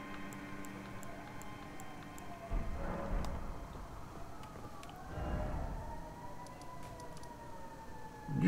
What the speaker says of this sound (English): You can probably hear the sirens now